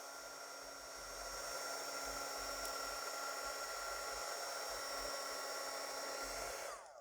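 A heat tool blows steadily on inked tape ephemera, producing a continuous whooshing hiss with a motor whine. It is close and even throughout and cuts off at the end.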